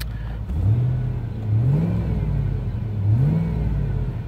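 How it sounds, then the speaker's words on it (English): A Ford Mustang engine runs steadily with a low hum, its pitch rising and falling briefly a few times as it revs gently. No talking. "Engine purrs just fine."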